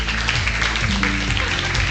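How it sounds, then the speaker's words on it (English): Student audience at an empowerment forum applauding the speakers, a dense continuous wash of clapping from many hands, loud and close, with faint music or voices underneath. "Another round of applause for our speakers,"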